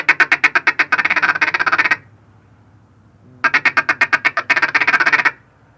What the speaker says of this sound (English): the chuckle is going to sound like this.